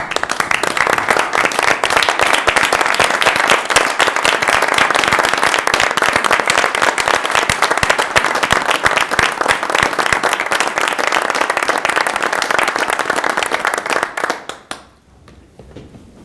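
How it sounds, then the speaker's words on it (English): Loud, steady applause from a large room of people at a council meeting, dense clapping sustained for about fourteen seconds before cutting off abruptly into quiet. "rise and give them a round of applause for their service"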